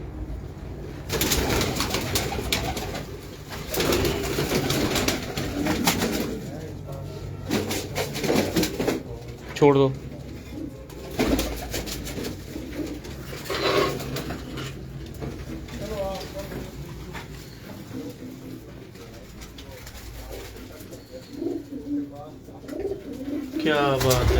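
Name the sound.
pigeons cooing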